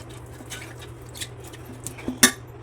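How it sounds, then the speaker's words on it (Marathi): A metal dhokla plate is greased with oil, giving faint scraping and a few light clinks of utensil on metal, ending in one sharper clatter in a quiet kitchen. "ज्या ताटात आपण ढोकळा करणार त्याला तेल लावून घ्यायचं आहे ग्रीस करून घ्यायचं ताटाला पूर्ण"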